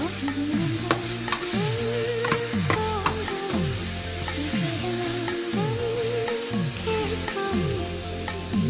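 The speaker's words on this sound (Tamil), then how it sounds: "நான் இப்போ வந்து கரம் மசாலா கொஞ்சம் போட்டுக்கிறேன். அதை கிண்டி வச்சுக்கலாம்." A spatula scrapes and stirs egg puff masala filling with garam masala in a hot pan, making a rhythmic, repeated scraping pattern over a soft sizzle, close and steady.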